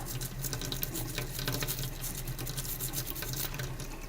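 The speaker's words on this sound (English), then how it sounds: "I want to make sure I rinse that thoroughly and rinse the denture brush" Tap water runs steadily into a sink while a denture and denture brush are rinsed, a continuous, fairly quiet splashing stream with no speech.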